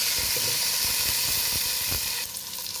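Loud, continuous close sizzling and hissing as whole spices like cardamom and cubeb fry in hot fat for a mandi-style duck, steady throughout and brightening slightly at the end.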